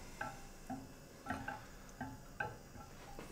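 Butter chunks being stirred in a pot make a quiet sizzle under a series of distinct clinking taps of the utensil against the pot, roughly evenly spaced.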